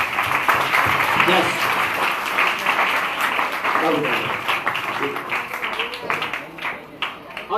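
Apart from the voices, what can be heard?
audience applause for quiz teams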